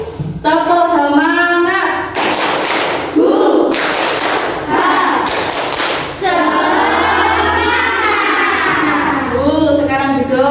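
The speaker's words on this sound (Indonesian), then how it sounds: "Tepuk semangat." A class of students stands and performs the rhythmic 'tepuk semangat' spirit clap, chanting together in a classroom and breaking into three loud bursts of group clapping between the sung phrases.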